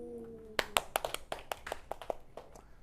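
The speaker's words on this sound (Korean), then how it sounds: "박수!" A small group claps hands about a dozen times in a quick, uneven burst after a short voice, the claps fading slightly toward the end.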